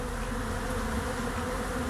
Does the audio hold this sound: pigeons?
no